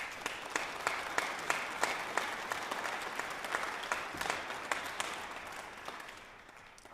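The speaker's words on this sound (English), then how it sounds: "we'd like to just have a round of applause for the symphony" An audience at a youth orchestra's fall concert applauds the symphony, a warm, fairly distant wash of many hands clapping that stays steady, then tapers off near the end.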